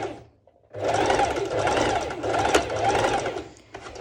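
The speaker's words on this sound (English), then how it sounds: "So I'm just gonna go ahead and do a straight stitch." A sewing machine runs a plain straight stitch on a skirt's fabric, a steady close whirring hum that starts after a short pause and continues for about three seconds before easing off.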